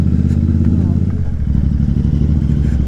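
Motorcycle riding the road toward the Gangotri temple, its engine a steady close throbbing rumble with clattering over bumps, continuous for a few seconds.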